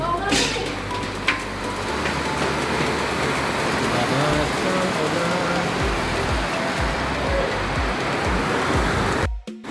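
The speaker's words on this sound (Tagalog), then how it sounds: "Lakas talaga ng ulan." Heavy rain pouring down in Cainta, a dense, loud, unbroken roar of downpour lasting throughout, with brief louder splashes and a voice faintly audible beneath it.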